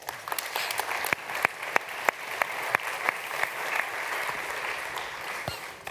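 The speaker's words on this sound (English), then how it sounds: "A round of applause for all of them, please." An audience at the Think 20 Summit policy conference applauds a panel in a hall: steady, moderately loud clapping across the whole stretch, with sharper individual claps standing out from the dense patter.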